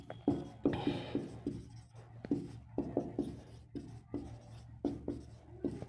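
Marker or chalk writing on a board during a Hindi Sanskrit class, close and fairly faint, with short scratchy strokes in an irregular rhythm and brief pauses between letters.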